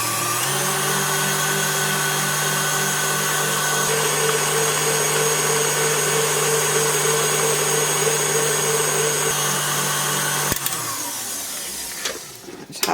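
A blender whirs steadily at medium speed while mixing a batch of homemade sweetened condensed milk, a loud continuous motor hum with a sharp clunk and a brief stop near the end.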